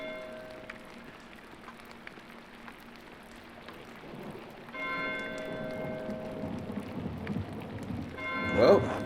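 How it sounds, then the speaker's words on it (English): Steady rain patters in the video game Pentiment, a soft, continuous hiss that swells a little louder partway through, with faint bell-like tones ringing in the background. "God, give me strength to endure the rain"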